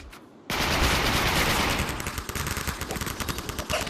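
Rapid automatic AK-47 gunfire in a video game set in a blizzard, bursting in loudly after a brief quiet moment and continuing as a dense, sustained rattle of shots.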